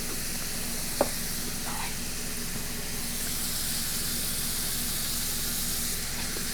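Ground beef seasoned with salt and pepper frying in a pan, a steady close sizzle and hiss throughout with a small clink near the start.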